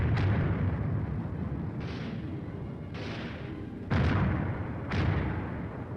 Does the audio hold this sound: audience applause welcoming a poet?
no